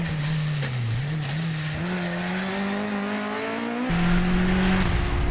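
A Mark II Ford Escort rally car drives a stage, its engine note climbing steadily through the revs with a sharp gear change near the end, loud and close with no voices.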